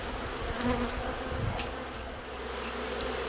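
A steady, dense buzz of many honeybees at an Alpine-type hive fills the clip at moderate loudness, continuous throughout with no talking.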